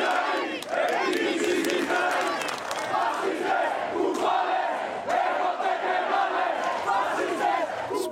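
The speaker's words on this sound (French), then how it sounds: "Spontanément, la foule improvise une manifestation." A large crowd shouting and chanting at a spontaneous anti-austerity demonstration in Greece, a dense continuous roar of many voices with raised cries throughout, loud and sustained.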